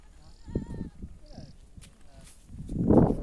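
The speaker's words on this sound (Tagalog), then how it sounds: "Ang daming kambing" Goats bleat in short wavering calls, several animals near and farther off, with footsteps and a closer, louder bleat near the end.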